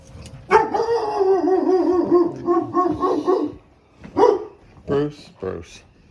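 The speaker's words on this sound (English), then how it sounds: "They have a really nice dog with a big voice." A household dog with a big, deep voice barks loudly and repeatedly close by, a sustained run of barks followed by a few separate ones, with people talking around it.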